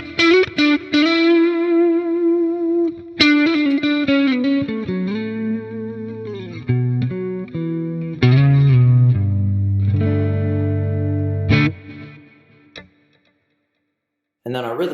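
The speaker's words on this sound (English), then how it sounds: "So it's a kind of a nice modulated low gain lead tone." Electric guitar plays a modulated low-gain lead tone through a Two Rock amp capture, with chorus-like shimmer and echo, in ringing notes and sustained phrases that trail off into a brief pause before a final note.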